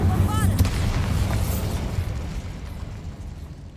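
Bombarda spell blast in Hogwarts Legacy, a heavy booming explosion right at the start after a short spell-cast whoosh, fading into a rumbling decay.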